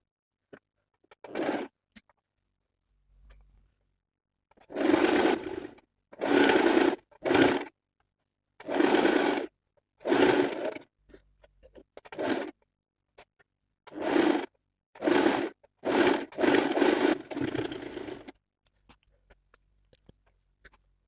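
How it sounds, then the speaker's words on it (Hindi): A sewing machine stitching a half-inch seam on an Angrakha kurti panel runs in several separate bursts of steady whirring, each a second or two long with short pauses between, close and fairly loud, with no talking. "इसको इस तरह से रखकर स्टिच लगाएंगे हाफ इंच का"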